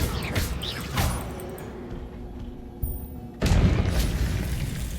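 A Depulso spell from a Harry Potter video game lets out a deep booming blast, loud and sudden, then a short lull before another heavy thump with rumbling game noise around it.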